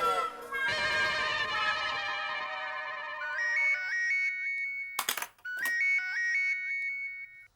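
A phone rings in a comedy household scene, a bright electronic ringtone melody repeating in short tonal phrases, broken by two brief sharp bursts, with an earlier dense tonal passage before the ring settles into its pattern.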